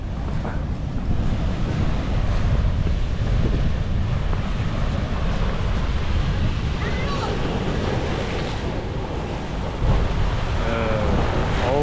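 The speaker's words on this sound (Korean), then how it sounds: "와 엄청납니다 파도가" Continuous roaring surf on a rainy day in Taiwan, with heavy wind buffeting the microphone, loud and close, the waves churning steadily without distinct breaks.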